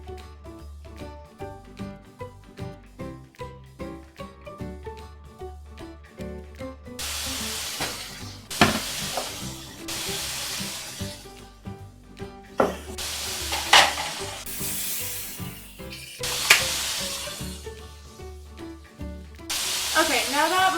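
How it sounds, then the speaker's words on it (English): Frozen beef pot roast sears in a hot pan with a steady sizzle, broken by louder bursts of hissing and spattering as the meat shifts, over a faint musical backdrop. "now that my meat is seared"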